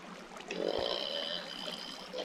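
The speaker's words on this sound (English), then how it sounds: "That's water." Flowing water in the Minecraft video game gives a continuous, soft watery rush with gentle trickling, steady and moderately close, with no talking over it.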